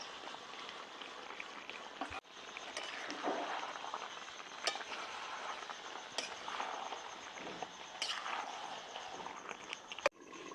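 Chicken curry simmers and sizzles softly in a pot over a strong flame as fried potatoes go in. A quiet, steady bubbling crackle is broken by a few clunks of a spoon stirring.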